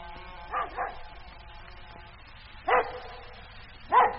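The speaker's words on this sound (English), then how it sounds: "What's the matter with the dog? He's been going on like that for nearly 20 minutes." A dog barks in a radio drama sound effect, with two quick barks, a pause, then two more single barks at moderate distance over a quiet background.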